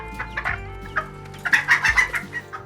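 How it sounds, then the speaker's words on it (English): Chickens clucking near a backyard deck construction site, a series of short bursts that starts sparse and grows into a busier run of clucks, with no talking. "scare those chickens away"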